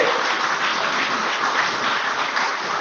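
An audience at the Premio Civitas Vitae 2023 closing ceremony gives dense, steady applause that stays full and even, with no talk over it.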